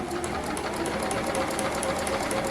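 A sewing machine stitches steadily inside a roughly half-inch seam allowance on a 90s playsuit, a close, even, fast rhythmic clatter running throughout.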